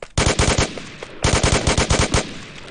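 Rapid automatic fire from an MP5 machine pistol in a video game, two loud bursts of close, evenly spaced shots separated by a short pause.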